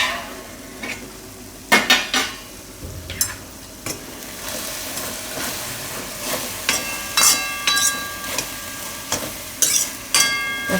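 Papdi beans frying in oil in a home Gujarati kitchen: a soft, constant sizzle with intermittent clinks and scrapes of a spoon stirring against the pan.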